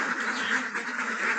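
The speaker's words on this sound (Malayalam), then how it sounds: "അപ്പോൾ നമ്മൾ കഴിഞ്ഞതിൽ കൊണ്ടുവന്നതും പുതിയതുമായിട്ടുള്ള താറാവുകളാണ്." A flock of egg-laying ducks on a mixed farm quacks continuously in a dense, overlapping chorus, loud and close, with no pauses.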